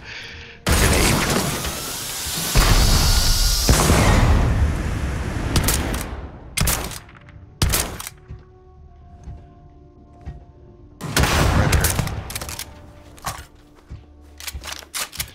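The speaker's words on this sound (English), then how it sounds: "Grenade." Starfield combat: a grenade blast and gunfire from a sci-fi video game, with loud broadband bursts and a rumbling explosion early on, then sharp separate shots and clustered volleys that fade out and return.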